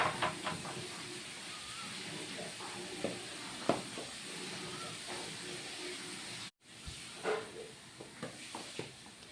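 Steady hiss of potatoes frying in oil with occasional stirring clicks, moderately loud and close, with a brief dropout near the end.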